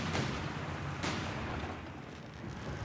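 Artillery in Company of Heroes 3, with a pair of deep booming impacts about a second apart over a low rumbling battle backdrop, heard at a distance and fairly faint.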